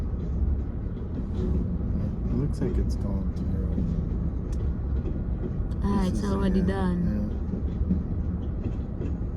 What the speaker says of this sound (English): Just a short little train.